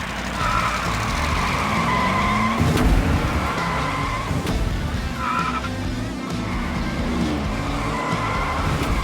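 Diecast toy cars, including a McLaren F1 GTR, race down a toy track, their whirring rolling noise mixed with repeated engine-like revving and squealing sound effects over several seconds.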